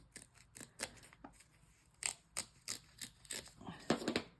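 A series of crisp scissor snips cuts through fabric in an irregular rhythm, close up and fairly quiet, with faint background noise between the cuts.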